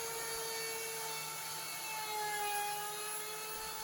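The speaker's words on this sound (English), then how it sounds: "Time to ease all these edges with a 1/4 inch roundover bit in the router." A router fitted with a 1/4 inch roundover bit eases the edges of a wooden workpiece, giving a loud, steady high-pitched motor whine that runs close and unbroken with a slight swell near the end.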